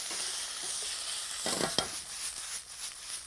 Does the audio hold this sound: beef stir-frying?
yes